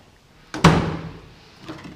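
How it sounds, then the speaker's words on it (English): A single heavy metallic thunk as a Ford F-150 pickup truck's tailgate drops open, with a short ringing decay and a faint knock afterward. "Nice slow drop tailgate, very light."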